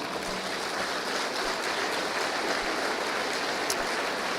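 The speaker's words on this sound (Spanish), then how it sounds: "Dele otro aplauso al Señor." Church congregation applauding during a sermon, a dense, even wash of clapping from many hands that holds steady from start to finish with no voices above it.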